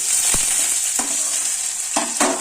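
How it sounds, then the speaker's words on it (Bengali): Cumin seeds tempering in hot oil with chopped garlic and ginger, a bright steady sizzle with a few sharp spatula taps against the pan, close and alone. "এই যে একটু জিরে ফোড়ন দিলাম, হালকা ফোড়ন দিলাম, একটু রসুন কুচি, একটু আদা কুচি"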